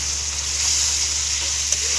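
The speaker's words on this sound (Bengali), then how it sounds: "সুন্দরভাবে এটাকে আমি হালকাভাবে একটু ভেজে নিচ্ছি।" Spice paste with added tomato paste sizzles steadily in a hot pan for a giblet bhuna, a continuous close hiss of frying with one small pop near the end and no voices.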